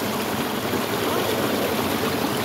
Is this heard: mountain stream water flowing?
yes